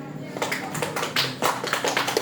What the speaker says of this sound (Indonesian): Sini yang sudah menikah, tepuk tangan.